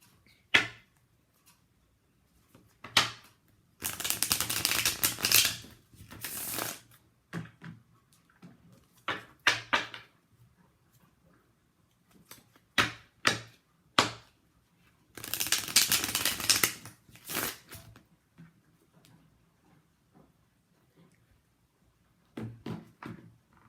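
Tarot card deck being shuffled by hand: bursts of riffling and slapping cards come in irregular clusters, with two longer riffles and scattered short taps between quiet gaps, close and soft.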